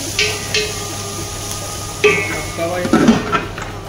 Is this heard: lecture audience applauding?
no